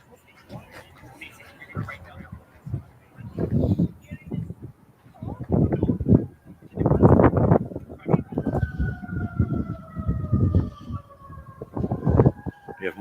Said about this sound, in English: We have more sirens in the background.